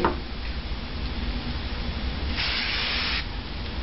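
Detect 4 aerosol drug-test spray is sprayed onto a test paper in one short, sharp hiss that lasts under a second amid a quiet background.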